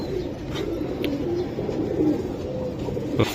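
Silver Giribaz pigeons coo nearby in a low, continuous, throaty burble that stays steady throughout.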